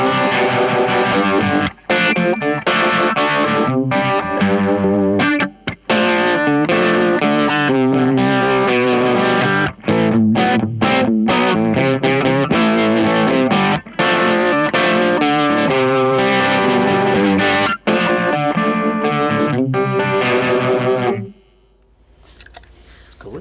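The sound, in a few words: guitar through Crazy Tube Circuits Killer V vibrato and overdrive pedal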